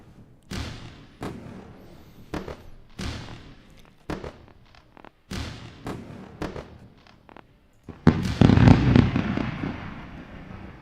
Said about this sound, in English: Let's go for the fireworks.